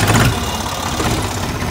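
A bulldozer's diesel engine runs with a loud, rough, throbbing idle close by, an irregular low chugging that continues steadily throughout.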